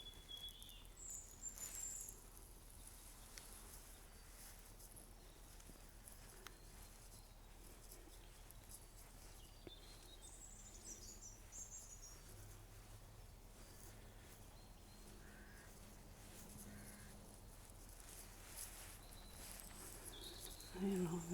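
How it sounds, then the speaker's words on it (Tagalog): Faint, scattered birdsong in Hazlehead Park: brief high chirps at a distance over a quiet outdoor hush, with no other prominent sounds. "Wala kang maririnig kundi ang mga ibon."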